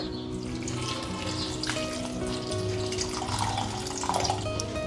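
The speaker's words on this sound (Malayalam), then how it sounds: "ഏകദേശം ഒരു ഒന്നര ഗ്ലാസ്സോളം വെള്ളം ചേർത്തിട്ടുണ്ട്" Plain water being poured into a kitchen mixer jar while making gooseberry buttermilk, a steady soft splashing pour that runs on for several seconds, near and fairly quiet, with no talking.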